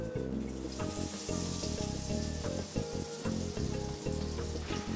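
Battered onion rings hiss and crackle in hot oil with a steady, loud, close sizzle and occasional soft clunks, and no one speaking.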